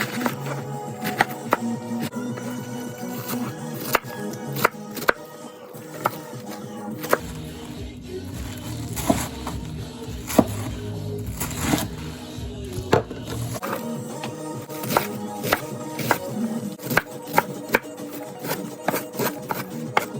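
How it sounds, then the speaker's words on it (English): A Cutco serrated chef knife chops through cabbage on a cutting board, with sharp repeated knocks and crunchy slicing strokes in an uneven rhythm, close and fairly loud, easing into a quieter stretch midway before resuming. "And then I slice away and chop."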